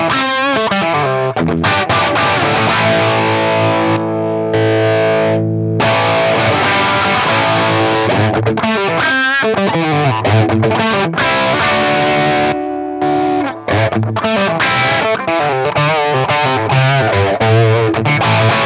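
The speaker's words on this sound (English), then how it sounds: "I hope you can clearly hear the clean boost is more open, and this is a little bit more compressed, more mid" Electric guitar driven through a Decibelics Golden Royale, a Klon Centaur clone overdrive pedal, playing loud, continuous chords and riffs with a couple of brief pauses and no talking.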